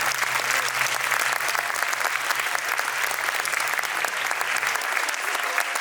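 Sustained, dense applause from an audience at a folk ball in the Salle du grand sud, Lille, cheering the student musicians; steady and loud throughout, with a faint low hum underneath and no talk.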